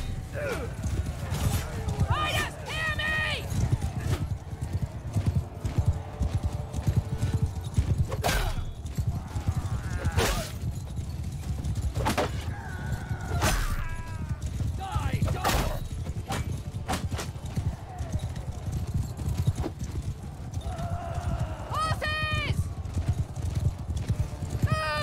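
In the Mount and Blade Bannerlord video game, a band of mounted lancers gallops in pursuit, with steady close hoofbeats, repeated whinnies and neighs, and a voice talking over the action throughout.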